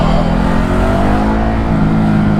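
A Ducati Hypermotard 950 RVE motorcycle engine revs loudly and steadily up close, its throaty drone holding a sustained high pitch for a couple of seconds with no talking over it.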